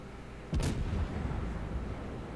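A Des Moines cruiser's guns fire high-explosive shells in a naval video game: one sharp, loud boom that rolls into a sustained rumble fading slowly over about two seconds, with no voices.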